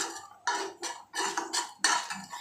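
A spoon stirs thick black urad dal kali in a pan, giving several short scraping strokes against the metal in an irregular rhythm, close and fairly quiet with no talk.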